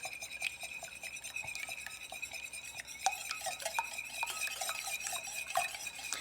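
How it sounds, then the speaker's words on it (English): Eggs and buttermilk are whisked in a bowl, a quick steady run of light clinking taps and swishes, fairly faint and close, with a soft background hum. "Kind of whisk that up a little bit."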